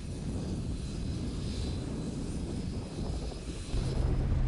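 An aircraft engine drones loud and steady during unloading at Socotra airport, a broad rumbling roar that swells slightly near the end with no voices over it.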